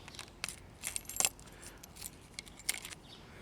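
Original Ford car keys for a 31-year-old Mustang jangle and clink up close in several small metallic bursts, faint and irregular, with no talking.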